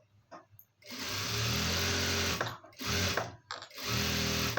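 A sewing machine stitches a blouse in three close, loud runs of rapid whirring, separated by short pauses with small clicks as the machine is stopped and restarted.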